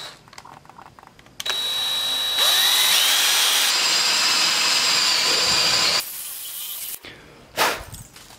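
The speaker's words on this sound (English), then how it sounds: "Now I'm gonna go ahead and drill out the holes for the mounting locations. I'm gonna use a step bit for this." A step bit drills mounting holes, about 7/16 inch, through a metal ditch light bracket, a loud steady whine with a high ringing tone lasting several seconds, then stopping, followed by brief handling noises.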